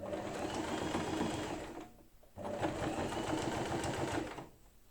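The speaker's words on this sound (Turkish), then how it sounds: "Geri tekrar dikiyorum bir geri bir ileri bir geri bir ileri yapıp burayı sağlamlaştırıyorum ki kopma olmasın." Sewing machine stitching back and forth to reinforce a seam while sewing a lining into a knitted bag, a steady close mechanical whirr in two runs split by a brief pause.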